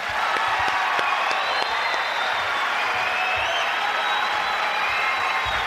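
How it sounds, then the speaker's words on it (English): A comedy club audience applauds as a stand-up comedian takes the stage, a steady wash of clapping with some cheering and whistles, heard throughout. "Let's have a big round of applause."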